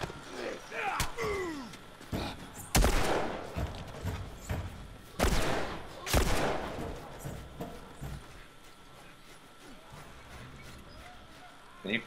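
Gunfire in The Last of Us video game: a few sharp, loud bursts spaced a couple of seconds apart over quieter game ambience and scattered thumps.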